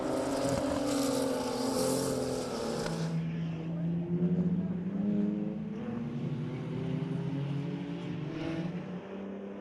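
BMW race cars circuit racing in a class battle on track, engines droning steadily and loud throughout with shifting pitch as cars run close together, sustained engine roar without a break.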